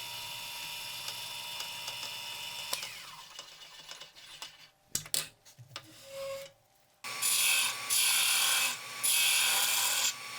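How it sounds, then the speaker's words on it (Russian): A 21 mm hole drilled into a boxwood block for making dice, with a steady whirring drone, scraping and knocks, then a louder grinding, hissing stretch of cutting toward the end. "Выбирать внутренний массив я начал со сверления отверстия диаметром 21 мм на всю длину рабочей части сверла,"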